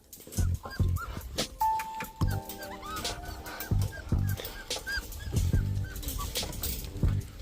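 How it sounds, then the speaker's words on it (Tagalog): Puppies and dogs at feeding time whine, whimper and yelp close by in rapid, overlapping bursts, with a few higher yips throughout. "Tara, pakain ulit tayo ng mga aso. Pero ngayon, papainom ako ng mga ano, papainom ako ng mga tuta."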